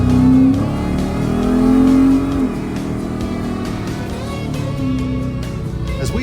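A Buick T Type's engine pulls hard under acceleration, loud and close, a sustained revving roar with rising and shifting pitch over a steady engine drone, no voices.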